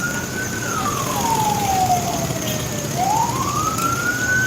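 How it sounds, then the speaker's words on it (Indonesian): Ambulance siren sweeping down and back up in a continuous wail, heard loud and steady over road noise in a traffic jam beside floodwater on a highway in Simalungun, with a large dump truck nearby. "unit ambulans nampaknya"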